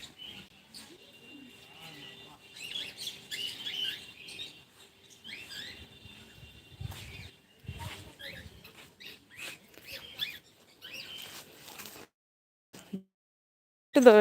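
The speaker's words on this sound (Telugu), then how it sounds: "చూడండి ఫ్రెండ్స్ వైట్ ఉన్నాయి చిలుకలు" White parrots calling at a zoo in quick, scattered bursts: shrill squawks and chirps that come and go over several seconds, moderately close, with short quiet gaps.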